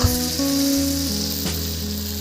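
Goat meat frying in a pan, a steady loud sizzle with a faint low hum underneath, unbroken from start to finish.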